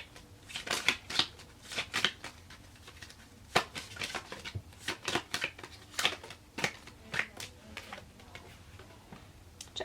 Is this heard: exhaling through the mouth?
no